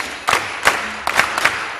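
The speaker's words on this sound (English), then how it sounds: "Bo Diddley rhythm with a clap of the hands." Hand claps from an audience beating out the five-beat Bo Diddley rhythm, loud crisp claps in a syncopated group of about five, slightly ragged as several people clap together.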